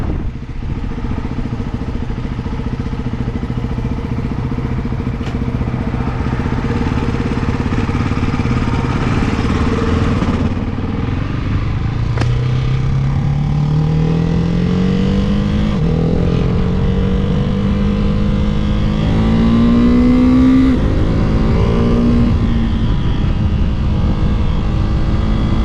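A Ducati Hypermotard 698 Mono single-cylinder motorcycle engine hums steadily while riding, then revs rise through the gears with climbing pitch under wind noise, loud and close.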